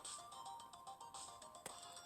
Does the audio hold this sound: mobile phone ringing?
yes